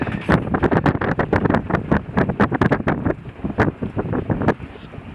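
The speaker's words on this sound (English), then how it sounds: "There's a gust of wind." Wind buffets the microphone in rough, rapid gusts aboard a Fantasia 35 sailboat on a busy river, a loud, continuous roar with choppy bursts and a low rumble.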